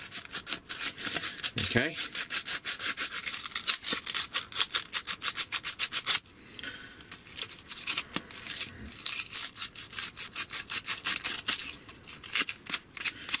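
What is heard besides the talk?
sanding metal with sandpaper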